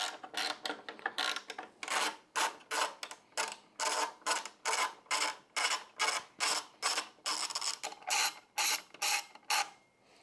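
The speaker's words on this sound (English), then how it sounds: "remove these two bolts underneath the light," A 27 Torx driver turning bolts beneath the license plate light housing on a 2024 or later Harley, heard as a close run of rhythmic ratcheting clicks repeating in short even bursts with no talk.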